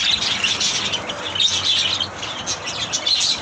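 Pet birds chirping on a cool, windy morning in Los Angeles, a busy flurry of high tweets and chirps over a soft breezy hiss, moderately close with no talking.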